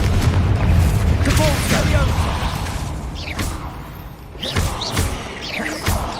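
Confringo fire spell explosions in Hogwarts Legacy, several booming thumps and blasts layered with game sound effects and a character's voice, loud and close.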